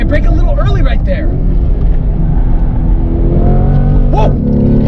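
A C8 Corvette accelerates on a racetrack, its engine loud and close, with a rising, droning pitch. A person exclaims briefly over it near the start and again near the end.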